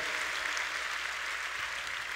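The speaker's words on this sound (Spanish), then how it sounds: "un aplauso a Dios, se lo va a dar" A church congregation claps together, a dense continuous applause filling the whole moment at an even level with no voices over it.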